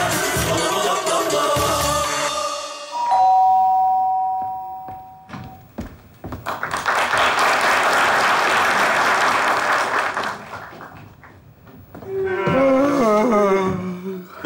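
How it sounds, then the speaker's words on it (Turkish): A studio audience claps in sustained applause for several seconds on a Turkish TV comedy show, framed by bright chime-like musical tones before and after. "Alkışlar gelsin bakalım"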